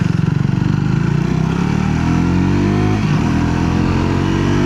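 A Triumph Tracker 400 motorcycle accelerating, its engine note rising steadily from a low throbbing pulse into a continuous loud roar, heard close up with no talk.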